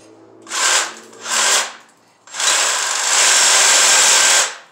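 A Sawzall reciprocating saw cuts into a Ford F250 rear axle: two short rasping bursts, a brief pause, then a long, loud, steady cut that ends abruptly, with no talking.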